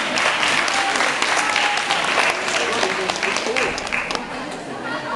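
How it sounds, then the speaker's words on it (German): Sustained crowd applause at the DoKomi 2009 anime convention in Germany, loud and dense for the whole stretch and easing slightly toward the end, with some voices and cheers mixed in. "Einmal Applaus, bitte."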